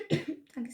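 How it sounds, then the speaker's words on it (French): A couple of short, close coughs from one person, a brief hacking burst followed by a second softer one. "J'arrête pas de tousser."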